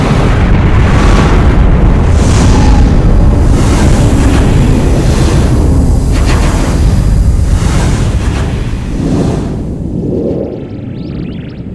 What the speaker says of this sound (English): When these massive stars die, they blow apart in giant supernova explosions.